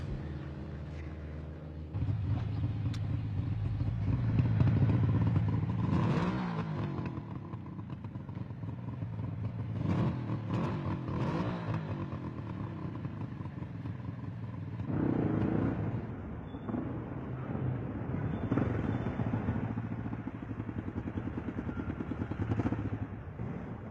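A motorcycle moving through Swiss city traffic in 1970, its engine droning and shifting in pitch with surges and lulls, accompanied by clatter and passing traffic, with no talk.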